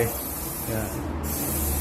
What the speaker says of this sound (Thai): พ่นสเปรย์อย่าพ่นใกล้แบบนี้นะครับ มันแรงเกินไป